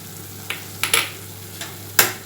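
Onion, tomato and chili and coriander powder sautéing in a pan for a Tamil fish curry masala, a low sizzle punctuated by several sharp spatula scrapes and taps against the pan, close and without speech.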